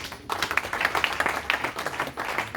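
A church congregation claps and cheers in praise of Jesus during a French-language service, with loud, steady applause that starts suddenly and carries on throughout.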